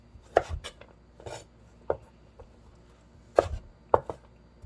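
A kitchen knife cuts vegetables in half on a cutting board, a handful of sharp, separate chops with quiet pauses between them and no talking.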